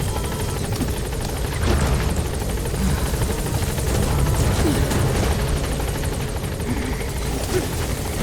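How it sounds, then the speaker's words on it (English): A support helicopter in the video game Metal Gear Solid V: The Phantom Pain, its rotor chopping steadily at moderate volume, a continuous whirring drone that holds for several seconds with no voices. "Support helicopter has arrived."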